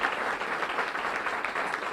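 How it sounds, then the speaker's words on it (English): A short burst of audience applause at a public event announcing Bryant as a FIFA World Cup base camp, about two seconds of even, moderately loud clapping from a crowd, with no talk over it. "Give Ross a little round of applause."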